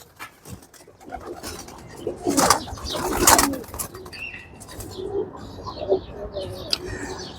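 Pigeons coo in low, soft repeated calls, with a brief flutter of wings and some scratching nearby.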